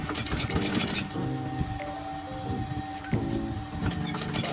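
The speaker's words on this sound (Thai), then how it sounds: "เย็บตะเข็บคู่เนาะเย็บห่อให้เนาะ" Sewing machine runs in short bursts while stitching a double seam on Levi's jeans, a close mechanical whir that starts and stops, with a steady hum underneath.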